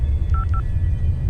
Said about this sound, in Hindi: हॉटलाइन नंबर पर फोन मिलाने लगी।